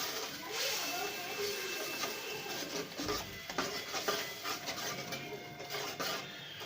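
Ginger garlic paste masala being stirred in a pot for aloo karahi, a soft continuous scraping and sizzling at low level without talk.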